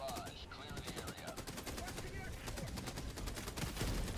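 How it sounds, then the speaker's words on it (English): Orbital barrage strike firing in the video game Helldivers 2: a dense, continuous volley of rapid explosive blasts and gunfire, loud and sustained throughout the clip, with a voice speaking over the din. "Firing orbital barrage. Clear the area."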